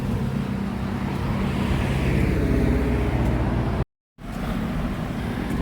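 Continuous traffic roar from a road in Hua Hin, Thailand, with car and bus engines blending into a steady mid-level drone, briefly cut to silence near the end before the same rumble resumes.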